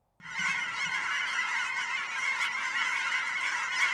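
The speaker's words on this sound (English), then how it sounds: "There is goose song in the air. Have you heard the excited sounds?" A flock of geese honks excitedly near a wildlife care center outside Eugene, Oregon, a dense continuous chorus of loud overlapping calls that starts abruptly and carries on without pause.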